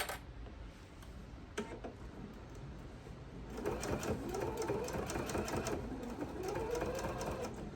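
A sewing machine slowly stitches an oven mitt, pivoting around a corner. It starts with a soft mechanical hum, then shifts at about the midpoint into a louder, rapid, steady stitching chatter close by.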